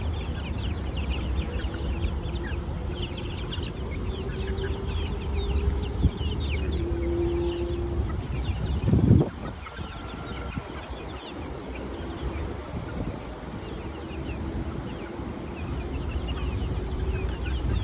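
A Golden Boy gamefowl rooster, a banded early-bird stag, makes low clucks and short calls amid steady outdoor background noise, with a brief louder rustle partway through.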